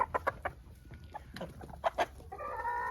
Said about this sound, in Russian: посадить к ним вот этого петуха